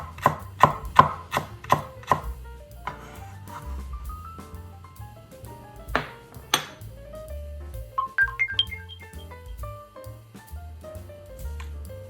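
Garlic being finely minced with a knife on a board, fast rhythmic chopping taps at first, then sparser clicks and light clinks, close and clear with no talking.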